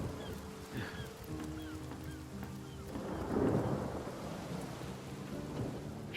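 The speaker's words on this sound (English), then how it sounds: "Made it rain on everybody." Rain and thunder from a spell cast in the video game Divinity: Original Sin, a steady rush of rainfall with a rumbling swell of thunder midway, layered over game music and faint bird-like calls.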